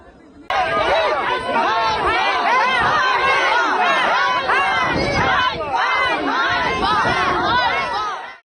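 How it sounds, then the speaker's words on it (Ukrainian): A large crowd gathered on the street outside a church yells and jeers at a departing priest, a dense, loud wall of overlapping shouts and chanting that continues for several seconds before cutting off. "люди на вулиці зустріли його з вигуками ганьба"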